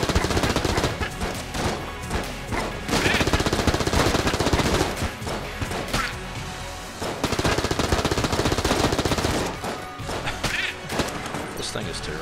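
Rapid, dense gunfire from a weapon in the video game Enter the Gungeon, a loud continuous stream of shots with crashes and impacts throughout, barely letting up.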